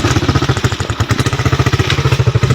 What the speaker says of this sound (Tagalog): Palyado na ang motor na dyan.